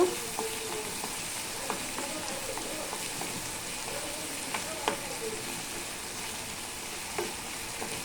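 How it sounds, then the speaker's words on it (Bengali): Ginger-garlic paste and spices fry in a pan with a steady, close sizzle and crackle, broken by a few sharper pops and the scrape of stirring. "আদা রসুন বাটা আমি সুন্দর করে মশলাটাকে একটু ভেজে নিব"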